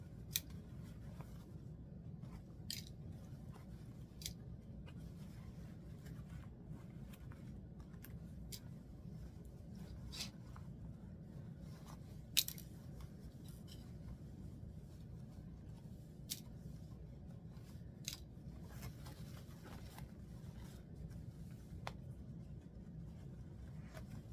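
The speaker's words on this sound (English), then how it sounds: "Cut off any strings that should not be seen so that your work is nice and neat." Scissors snip loose thread ends from a sewn doll dress with a tulle overlay, giving faint, scattered clicks and short cuts spread irregularly through a low steady room hum.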